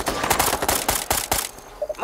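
Rapid gunfire in the game Ghost Recon Future Soldier, a tight burst of about a dozen evenly spaced loud shots that stops abruptly, followed by brief voice sounds.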